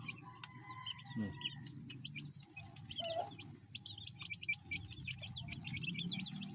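Pet chicks peep and cheep softly in quick, scattered bursts, faint and fairly close, with a little low background rumble and no voices.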